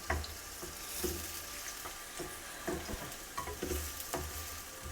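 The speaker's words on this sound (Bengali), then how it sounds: "দিয়ে দিলাম পেঁয়াজ আর একটু মোটা মোটো করে কাটা রসুন" Onion and coarsely chopped garlic sizzle steadily in hot oil, with scattered clicks and scrapes of a spoon stirring the pan at close range.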